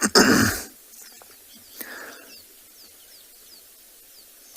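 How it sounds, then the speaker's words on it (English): A desert-dwelling wild lion gives one loud, explosive sneeze at the start, followed by a fainter snort a moment later, with birds chirping faintly in the quiet background. "This guy's got a bit of a sneeze going on."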